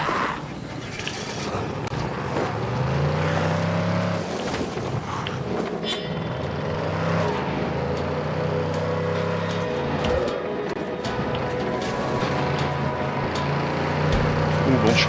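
A vehicle engine hums steadily while driving in the zombie game Dying Light, with a low rising and falling drone running throughout under a voice.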